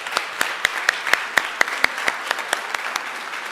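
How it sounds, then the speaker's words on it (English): Applause at a community gathering, with distinct individual claps at a steady rhythm standing out over a softer background of clapping, fairly close and moderately loud. "I think we can give Victor another round of applause."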